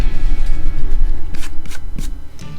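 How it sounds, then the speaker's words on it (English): Eraser rubbing out pencil marks on paper, a series of close, loud brisk scrubbing strokes in quick rhythmic bursts, ending with a few sharper swipes. "So let's erase."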